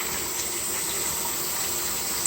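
Tap water pours steadily from a household faucet, a constant close hiss of running water with no voices over it.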